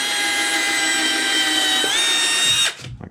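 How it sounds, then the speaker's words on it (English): A power drill whines loudly and steadily while boring a pilot hole into wood for a garage-built bed platform, its pitch shifting slightly before it winds down and stops. "Drill a pilot hole."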